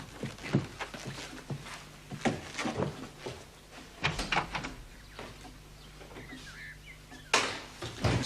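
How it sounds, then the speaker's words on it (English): An interior door slams shut in a quiet house at night, a sharp, loud bang near the end, preceded by scattered knocks, footsteps and faint movement. "Mrs. Honeycott, you hear that door slam and think it's your sister coming in."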